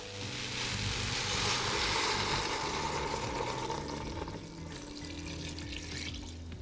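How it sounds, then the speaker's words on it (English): Water gushes into a pot over chopped vegetables and a bouquet garni for homemade stock, a loud, full splashing pour that softens slightly toward the end, heard alone without speech. "And you want to add enough water to kind of cover the vegetables and exceed them by about an inch or so."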